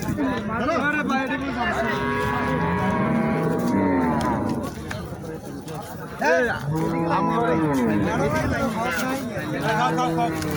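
Cows mooing repeatedly at a Mirshanni cattle market where improved-breed milking cows and calves are sold, the long lowing calls close and loud over a constant crowd hubbub, with people talking throughout.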